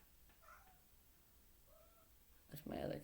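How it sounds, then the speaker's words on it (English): A house cat gives two faint, short meows in a quiet indoor room, followed by a louder, closer burst of sound at the end. "that's my other cat"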